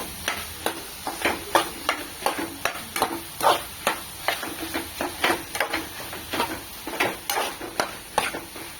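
Paneer is stirred into softened tomatoes in a pan, with quick rhythmic scraping strokes of a spoon repeating steadily over a faint background sizzle.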